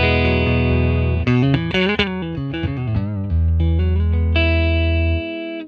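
An electric guitar plays a warm clean phrase through a ToneX model of a 1957 Tweed Bassman amp, with single notes and chords ringing out in a melodic run and ending on a sustained chord that fades.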